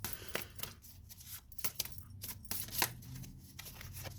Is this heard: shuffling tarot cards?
yes